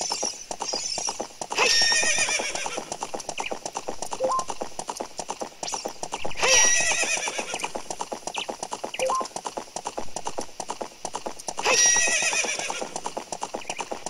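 A horse gallops in The Legend of Zelda: Ocarina of Time during the horseback archery game, with steady rapid hoofbeats and three loud whinnies spaced several seconds apart, and no talk.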